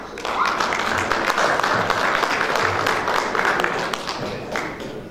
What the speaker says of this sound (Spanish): un fuerte voto de aplauso